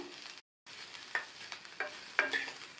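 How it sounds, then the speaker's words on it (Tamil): Onions sizzle softly as they sauté in a pan for chutney, with a few stirring scrapes and clinks breaking through the steady frying hiss. "அதனால் இந்த மாதிரி சைஸ்க்கு கொஞ்சம் பெருசாகவே கட் பண்ணி போட்டு வதக்குங்க."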